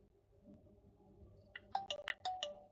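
A Jio F10Q feature phone powering up after repair plays its short startup tune, a quick run of bright, faint chime notes after a quiet moment.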